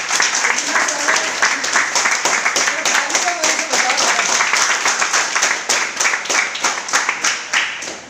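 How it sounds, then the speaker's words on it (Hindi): Loud, dense applause from an audience at a training seminar fills the whole stretch, steady clapping that swells and eases slightly. "जोरदार ताली आना चाहिए कि नहीं चाहिए?"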